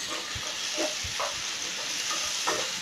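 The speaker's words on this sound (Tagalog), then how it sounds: "Lulutuin lang natin ito hanggang sa mag-translucent yung kanyang kulay." Chopped onion frying in a pan, a constant bright hiss and sizzle with occasional soft stirring scrapes, close and steady.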